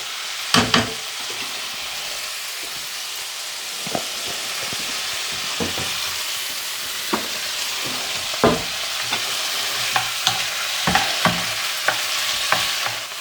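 Beef browning in a pan gives a steady close sizzle and frying hiss, broken by sharp clicks and scrapes as the meat is stirred and moved, with no talk.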